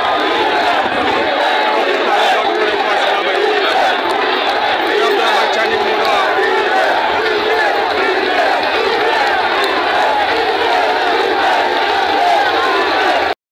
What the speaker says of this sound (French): a été accueilli par une foule en liesse